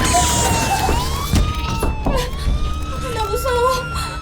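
A wailing siren rises and falls over a background of voices and scattered clatter, loud and fairly close.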